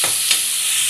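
Onions sizzling in hot oil in a pan while being stirred for a coconut milk chicken dish, a steady close frying hiss with a soft scrape of the spoon.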